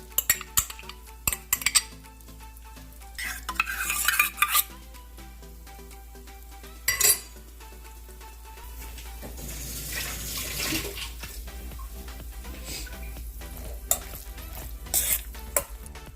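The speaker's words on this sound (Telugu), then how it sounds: "ఇందులో పెరుగు వేసుకుందాం." Curd is mixed into cooked kodo millet rice with a spoon, giving soft wet squelching and occasional clinks against the vessel, close and fairly quiet, with no talking.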